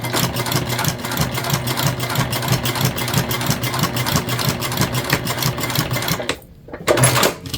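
A sewing machine stitches jelly vinyl for a train case, a loud close rapid mechanical chatter with a steady rhythmic beat that runs continuously, then stops briefly before a short final burst.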